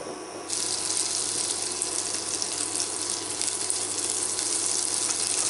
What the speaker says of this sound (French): le beurre. On va le laisser fondre tranquillement